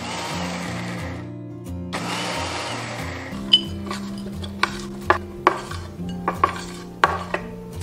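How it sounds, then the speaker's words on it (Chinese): A high-speed blender pulses roasted, skinned peanuts in short loud bursts, the whirring motor starting and stopping twice, followed by sharp clinks and taps of the jar and utensils. "把花生米直接加入到破壁均匀，然后点下几下，保留颗粒感。"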